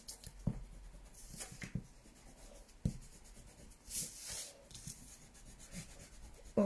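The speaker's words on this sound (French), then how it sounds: "Là, je gomme mes repères." An eraser rubs off pencil guide marks on a folded Easter card in soft, close, scratchy strokes, with brief pauses and light taps between passes, quiet and without talk.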